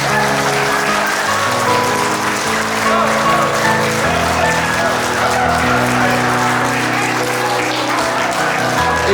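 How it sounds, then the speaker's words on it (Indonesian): Wedding guests in a hall clap together in sustained, dense applause for nine seconds while a host talks over the clapping on a microphone. "Silakan Bapak Ibu tepuk tangan."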